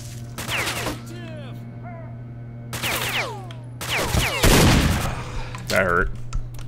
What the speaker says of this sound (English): Oh hey, you're shooting at me.